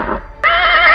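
A horse neighs loudly and close, a short rising whinny that breaks into a sustained shrill, wavering call after a brief softer lead-in.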